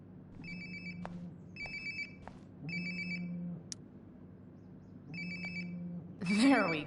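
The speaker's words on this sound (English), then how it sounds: "Sounds like my phone is definitely nearby." A cell phone ringtone plays nearby in the video game Life is Strange: Before the Storm, a repeating bright chiming melody in four bursts with short gaps, ending with a brief busier flourish.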